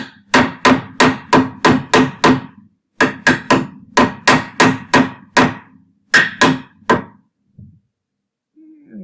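A ball-peen hammer knocks something down with sharp, close strikes in quick bursts: about seven, a short pause, seven more, then three. Someone speaks briefly at the end.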